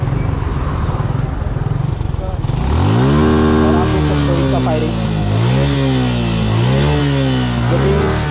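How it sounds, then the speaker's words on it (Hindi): A Suzuki Gixxer motorcycle engine idles roughly, then is revved hard several times, its loud, close roar climbing and dropping in repeated throttle blips. "अभी हम जिक्सर का आपको साउंड सुनाने वाले फायरिंग"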